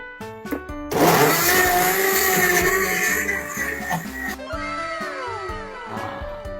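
A loud blender starts up suddenly and roars steadily, grinding and rattling as it crushes ice for a few seconds before winding down, with music playing underneath.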